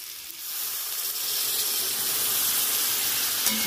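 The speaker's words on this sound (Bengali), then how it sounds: "এবার আমি যে আলুগুলো ভেজে রেখেছিলাম ওগুলো দিয়ে দেবো, দিয়ে ভালো করে কষে নেব" Fried potatoes and jackfruit sizzle in a pan with a steady, moderately loud hiss that swells slightly and holds, a brief clink near the end.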